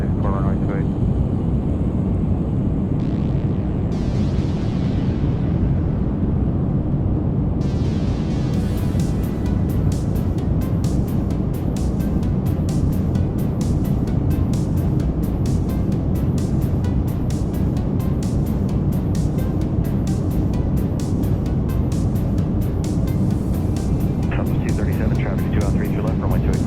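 An airplane takes off from runway 28, its engine roaring loud and steady throughout with no letup, while voices talk over the drone.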